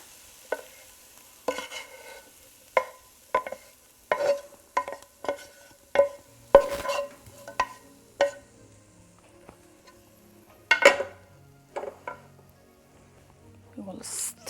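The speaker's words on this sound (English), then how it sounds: "We will stir it just gently. We don't want to break the rice grains until nicely blended." A spoon gently stirs vegetables into cooked rice in a home kitchen, making a series of soft, separate scraping and clinking strokes at an uneven rhythm, close by, with quiet pauses between them.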